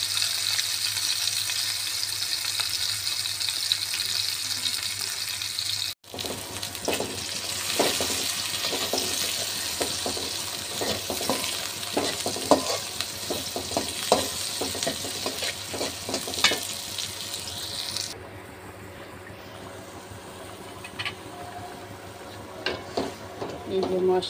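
Spices and fish cook in a pan, with a steady close sizzle, stirring clatter and a short break, then a quieter, more subdued bubbling sizzle after water is added.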